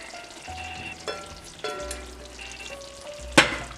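Gouda and Asiago cheese sauce stirred in a pan for seafood pasta, with a low background sizzle, sparse scrapes and one sharp clatter near the end, no voices.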